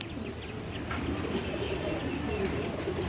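Soft pigeon coos from a pair of fancy pigeons, a male and a female, low and repeated amid steady close background noise.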